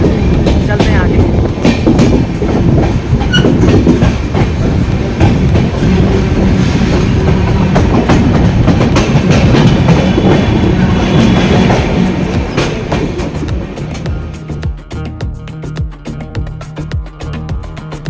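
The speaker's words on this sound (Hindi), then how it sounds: "आपको आज जर्नी दिखाते हैं पठानकोट सुपरफास्ट एक्सप्रेस ट्रेन की" Indian Railways New Delhi-Pathankot Superfast Express train running, with a steady loud rumble and rhythmic clickety-clack of wheels over rail joints throughout, easing slightly toward the end.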